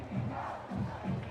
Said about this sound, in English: Tigers crowd still in the game here after that impressive drive. Crowd trying to rally behind the Tigers.